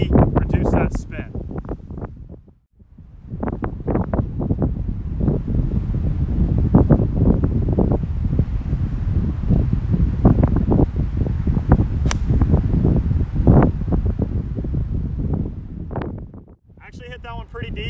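Strong wind gusts up to 40 mph rush over the microphone on a golf course in a continuous loud, rumbling roar that barely lets up, with someone talking briefly at the start and end.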